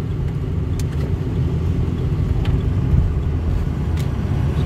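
A 2006 Ford F350 flatbed truck on the move: steady, loud low engine and road rumble from inside the cab, with faint rattles over the top and no talk.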